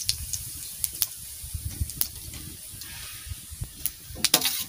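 Cumin seeds frying in hot oil make a light crackling sizzle with scattered sharp pops and spits over a low steady hiss, moderately quiet and close.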